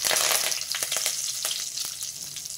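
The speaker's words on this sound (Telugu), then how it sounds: "ఆవాలు చిట్పట్లాడుతున్నాయి." Mustard seeds, cumin and curry leaves crackle and sizzle in hot oil as a tempering for boondi curry, with a dense, steady frying hiss broken by sharp, close pops throughout.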